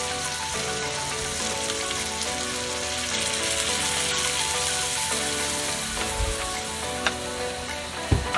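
Halang-halang, a Bohol dish with onion and chili, sizzles and fries loudly in a pan after a little water is added, a dense continuous crackle with a few clanks near the end.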